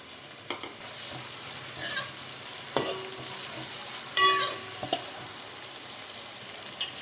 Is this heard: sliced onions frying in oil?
yes